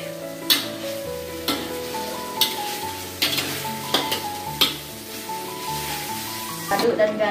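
Chicken pieces sizzling steadily in curry spice paste in a pan, with repeated scraping stirs and clinks of a utensil at close range throughout.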